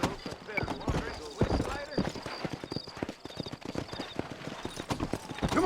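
Horse hooves clip-clop at a steady walking pace in the western video game Red Dead Redemption, close and rhythmic as the horse heads out of town, with speech under the hoofbeats and a brief whinny.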